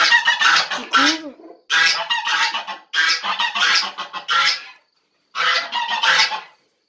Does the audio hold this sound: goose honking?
yes